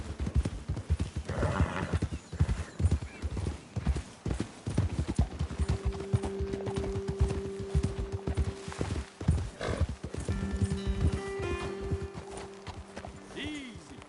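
Horses' hooves clip-clop in a quick, uneven rhythm while they snort and whinny in Red Dead Redemption 2, the riding sounds continuing under spoken conversation throughout.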